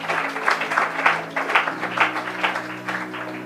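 A church congregation claps in praise to acclaim Jesus, with loud rhythmic handclaps falling in an even beat about twice a second over a low sustained musical hum.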